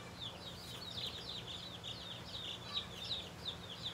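A small group of young Bresse chicks peep continuously in rapid, high, faint chirps over a low steady hum.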